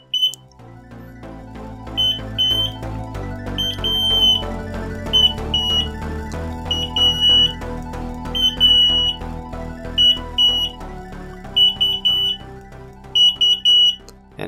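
Warning buzzer from an Arduino-based flood detector with LCD and ultrasonic level sensor, sounding as repeated high-pitched beep bursts in a steady on-off rhythm over continuous background music, loud and close.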